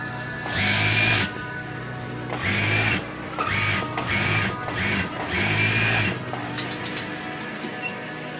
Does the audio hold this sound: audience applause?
no